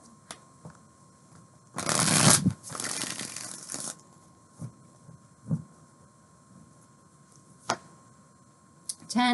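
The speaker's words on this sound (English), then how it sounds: "One more shuffle." Tarot cards being shuffled by hand, two dense riffling bursts near the start, then scattered soft taps and card flicks in a quiet room.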